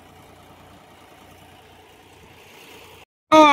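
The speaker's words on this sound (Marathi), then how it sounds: "John Deere tractor 52 gear pro चालू आहे बघा कीटकनाशक फवारणी" A John Deere 5200-series Gear Pro tractor engine idles steadily in a field during pesticide spraying, a low continuous drone that cuts out briefly near the end before a sudden loud burst.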